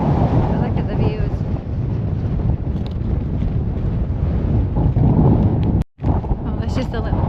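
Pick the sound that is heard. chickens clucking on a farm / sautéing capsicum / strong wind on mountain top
strong wind on mountain top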